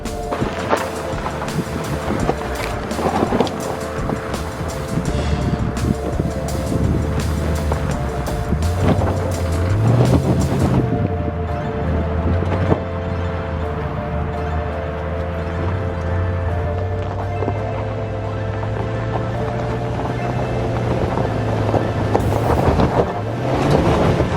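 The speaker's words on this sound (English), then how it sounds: "here's a clip of showing the differentials locking up" A Volkswagen Touareg off-roading with its differentials locking, heard as a steady loud engine drone with rising and falling pitch under heavy wind buffeting on the microphone, continuous throughout.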